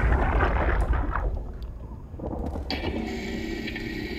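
Machines whir and clank mechanically in the game Soma, with a rumbling low drone followed by ratcheting, grinding mechanical tones and a faint hum.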